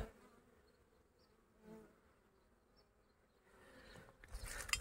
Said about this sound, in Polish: patrzcie, coraz więcej tu pszczół lata